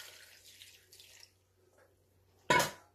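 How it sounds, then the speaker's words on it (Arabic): Water trickles gradually into qatayef batter, a soft faint pour fading out, then a short louder splash near the end, with no talking. "منضيف المي تدريجيا"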